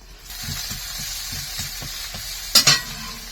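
Prawns frying in a pan in an outdoor village kitchen: a steady hiss of oil with soft repeated stirring scrapes, ending in two sharp, loud clattering knocks, with no talking.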